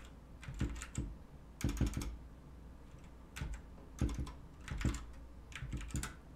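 Keys clatter on a computer keyboard in quick, uneven bursts with short pauses between them, close and fairly quiet, with no voices.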